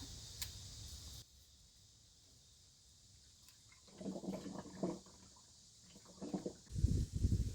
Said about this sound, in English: I'm going to go ahead and put a funnel in here and refill this.